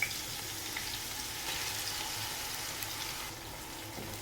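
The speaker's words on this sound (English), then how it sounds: "Stir fry the onions in the oil." Six finely sliced onions stir frying in hot spiced oil for a chicken biryani, a steady close sizzle with soft stirring scrapes running throughout without pause.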